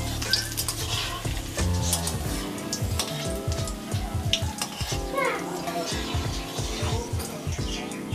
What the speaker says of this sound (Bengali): তো তেলটা আমার তেতে গেছে, এবারে আমি বড়াগুলো ভেজে নেব।